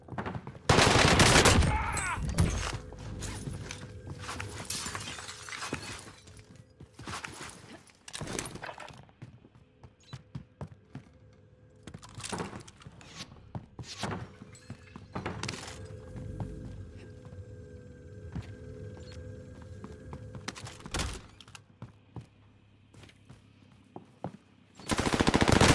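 Automatic weapon fire in the shooter game Warzone with a new Welgun, crackling in loud bursts and scattered single shots across the clip, with quieter gaps between volleys.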